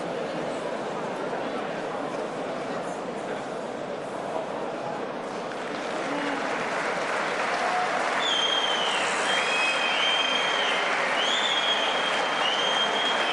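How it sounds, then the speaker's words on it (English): A boxing crowd at the Kubrat Pulev vs Travis Walker fight gives the beaten Travis Walker a sustained round of applause that swells toward the end, while a commentator talks over it. "That's the sporting round of applause for Travis Uokър"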